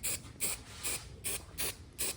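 An aerosol spray can laying guide coat onto car bodywork on a Honda CRX build, five short hissing bursts in an on-off rhythm with brief gaps between, close and fairly quiet.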